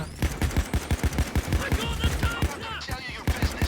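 Rapid bursts of automatic gunfire from a PAYDAY 2 bank heist shootout with police, with sharp repeated shots in an irregular rhythm that fill the whole stretch, loud and close, while voices talk underneath.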